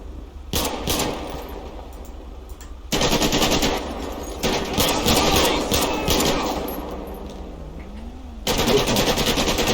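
Machine-gun fire in a GTA 5 LSPDFR police shootout during a traffic stop, loud sustained bursts broken by brief pauses, with an engine-like rumble underneath.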